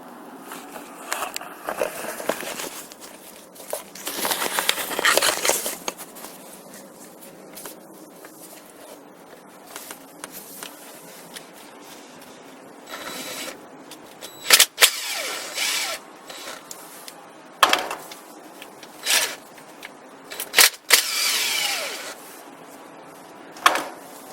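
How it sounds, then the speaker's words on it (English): 10mm transmission oil pan bolts come out of a 2004 BMW X3, with intermittent ratchet clicks, metallic scrapes and clanks spread across a quiet background, some bursts louder and closer than others. "now we're going to go in and take out all of these 10mm bolts all the way around"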